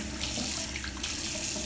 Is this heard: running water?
yes